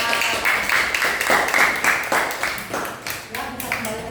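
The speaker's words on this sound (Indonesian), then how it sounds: "Tepuk tangan untuk kelompok 3" A classroom claps for presenting group 3 after their discussion presentation, a close, busy patter of many hands with uneven bursts that thins out toward the end.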